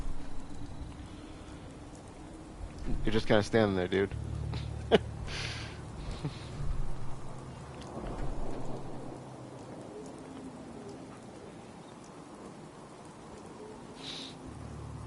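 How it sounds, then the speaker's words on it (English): Steady rain patters across an outdoor wasteland in Fallout 4, with a brief deeper rumble and a few louder bursts early on, while someone speaks briefly over it. "Hope this rain lets up soon."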